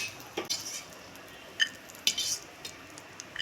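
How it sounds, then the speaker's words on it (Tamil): Roasted cashews scraped from a pan into a bowl in a home kitchen, with a few faint, sparse clinks and scrapes of utensil on metal against quiet background hiss. "முந்திரி பருப்பு நல்லா ரோஸ்ட் ஆயிடுச்சு. இப்போ ஒரு பவுலில் ட்ரான்ஸ்ஃபர் பண்ணிக்கலாம்."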